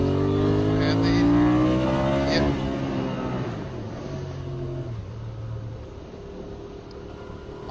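A Benelli Leoncino 800 motorcycle engine with its stock exhaust is heard while riding: a loud, close engine note that revs and then eases off, with wind noise and a rider talking over it.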